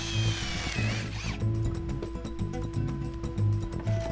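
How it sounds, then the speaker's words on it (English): A hand drill works through a wooden cross piece, giving a steady, close mechanical whirring with repeated ratcheting, gear-like pulses and a brief high squeal near the start. "this time I'll just drill them by hand."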